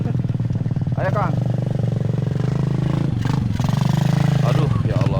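A motorcycle engine drones loudly and close, pulsing with a rough, steady rhythm and brief surges, while people call out over it near Kampung Sodong.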